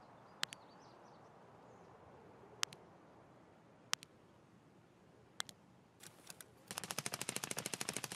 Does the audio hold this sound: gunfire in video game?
yes